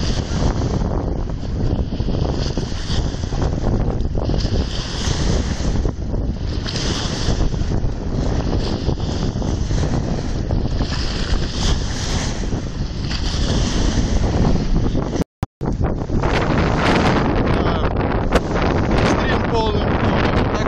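Strong wind buffets the microphone while big waves crash and surge during feeder fishing, a loud, continuous roar with brief cutouts, and a voice speaks over it.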